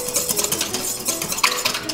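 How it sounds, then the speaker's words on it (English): Royal icing ingredients are whisked by hand in a bowl, giving a busy, continuous scraping and tapping with a faint clink near the end, no voices. "So I like to just whisk it and whisk it."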